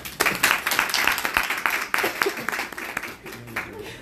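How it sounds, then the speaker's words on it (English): An audience claps to welcome a speaker onto the stage at a financial talk, a brisk burst of hands with distinct individual claps standing out, fading toward the end with some voices underneath. "give a round of applause, Chuck Hardon"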